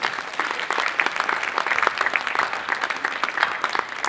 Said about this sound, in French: je vous demande de les applaudir encore une fois tous